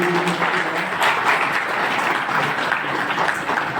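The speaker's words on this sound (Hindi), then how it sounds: "तालियों की गड़गड़ाहट" Sustained, dense applause from an audience at a district court retirement farewell ceremony, steady and loud throughout with no pauses.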